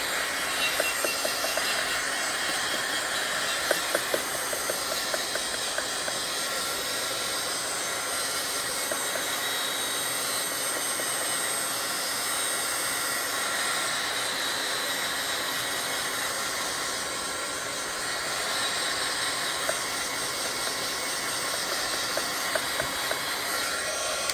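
A hot embossing heat tool blows air to dry a paper collage, a steady loud whooshing hiss that runs unbroken and close, with a few faint clicks and no talking.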